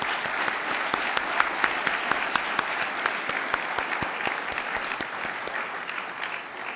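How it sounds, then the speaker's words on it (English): A crowd at a city's 25th anniversary celebration applauds steadily, with dense continuous clapping and sharp individual claps standing out throughout, no talking. "Let's give them a round of applause."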